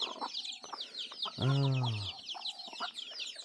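Chickens at a farm give a short series of clucks and squawks, with one loud drawn-out fowl call in the middle, close by and mixed with a man's brief exclamation.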